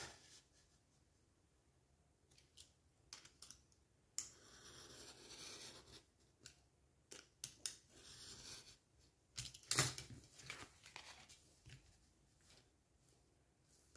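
Paper is cut with a utility knife for a craft lantern, giving faint short scraping strokes and rustles at close range in a quiet room.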